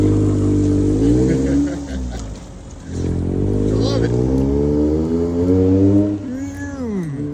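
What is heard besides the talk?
bug-themed truck driving past in Japan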